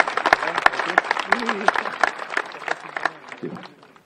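Applause at an outdoor commemoration ceremony in a village, a modest crowd clapping in quick separate claps that thin out and fade away near the end.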